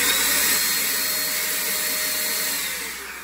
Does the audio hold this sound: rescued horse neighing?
no